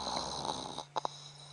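A man imitates a male lion snoring: a breathy, rasping drawn-out snore followed by two short, sharp snorts, close and alone.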